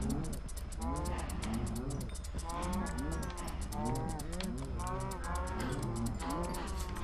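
Several baby cows bellow in a steady series of rising and falling moos, near and loud, layered over a continuous low droning background.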